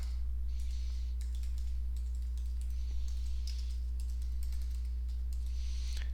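Someone types on a computer keyboard in quick, uneven bursts of soft key clicks over a constant low electrical hum.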